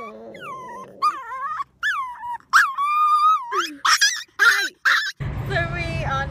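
A dog whimpers and cries in a series of high, wavering whines and yelps, close and loud, broken by short pauses, with a steady rumble underneath toward the end.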